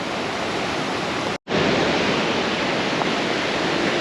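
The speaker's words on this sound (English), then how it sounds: "it's absolutely hammering it down with rain" Heavy rain pours at Krka National Park in Croatia, making a dense, steady roar that cuts out for an instant partway through.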